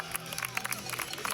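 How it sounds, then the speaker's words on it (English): Luge fans at a Winterberg World Cup doubles race applaud in a brief burst of scattered crowd clapping mixed with murmuring. "Applause from all of the luge fans here."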